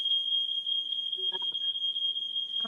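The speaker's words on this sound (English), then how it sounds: "my fire alarm is going off" A home smoke alarm beeps as one steady, piercing high-pitched tone that runs unbroken from start to end, loud and close, with brief faint sounds of movement partway through.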